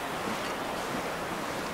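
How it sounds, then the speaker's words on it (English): Steady rushing wind in the video game The Long Dark on a mountain, a broad soft whoosh that stays even for a couple of seconds, fairly quiet and without voices. "It is windy."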